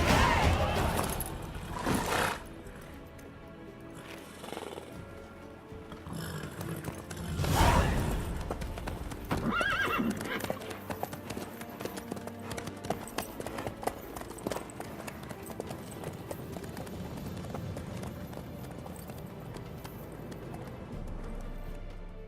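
Horse hooves clip-clop in the Witcher 3 video game, a steady plodding rhythm of moderate loudness running throughout, with occasional louder thumps and rustles in between.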